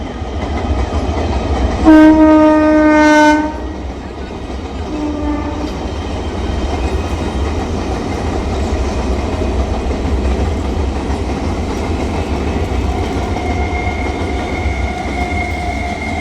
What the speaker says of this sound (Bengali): এই যে বন্ধুরা দেখতে পাচ্ছেন ট্রেন চলে আসছে